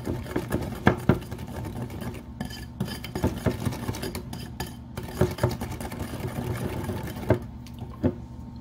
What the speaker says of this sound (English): And then we're just gonna whisk this all together.